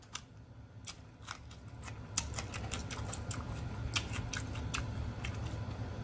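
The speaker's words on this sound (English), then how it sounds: "that clicking noise is my daughter over here playing on the computer" Quiet, irregular clicking from a computer mouse or keyboard during play, sharp little taps spread across a low background hum.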